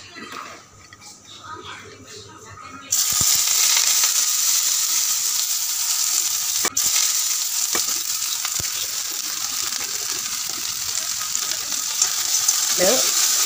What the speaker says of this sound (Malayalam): പച്ചമണം പോകുന്നത് വരെ നമുക്ക് നന്നായി ഫ്രൈ ചെയ്ത് എടുക്കാം